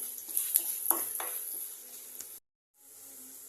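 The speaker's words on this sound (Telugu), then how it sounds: "వన్ మినిట్ ఫ్రై చేసుకోవాలి" Cumin and coriander seeds frying in a spoonful of hot oil for a spice powder, a close steady sizzle with a few stirring scrapes, cutting out abruptly before a fainter hiss resumes.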